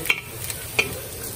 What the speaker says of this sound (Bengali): রসুন আর শুকনো মরিচ দিয়ে খিচুড়িটা বানার দিই।